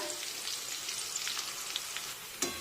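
Curry leaves hit hot oil, sizzling and crackling steadily, with small pops scattered throughout and a sharper pop near the end.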